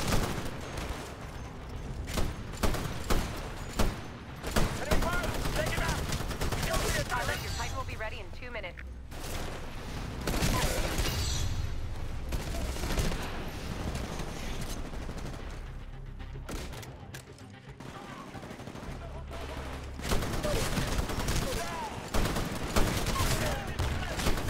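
Sustained LMG bursts and other rapid gunfire in the Titanfall video game, a dense loud stream of automatic shots with explosions and battle noise throughout, while players talk over it at times.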